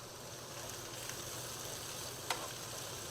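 Food simmering in olive oil in a pot gives a soft, steady sizzle with faint crackles and one small pop, quiet and close, with no speech.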